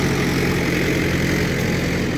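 A Mahindra 585 50 HP tractor pulls a harrow through a field, its engine a steady, loud, low diesel rumble with constant broadband roar and no pauses.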